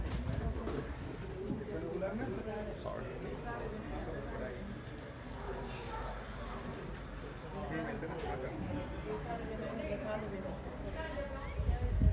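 Pigeons or doves coo softly and repeatedly beside a pond on the grounds of the Byodo-In Temple in Hawaii, woven through a continuous wash of outdoor ambience.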